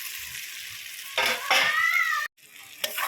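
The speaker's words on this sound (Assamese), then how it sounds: "এতিয়া মাংসখিনি পিঁয়াজটো ৰঙচুৱা হ'ব ধৰিছে, ৰঙচুৱা হ'লেকে ভাজি ল'ম।" Goat meat and onions sizzle in a hot pan, a steady close hiss with louder bursts as they are stirred, then a brief cut to silence before the frying resumes.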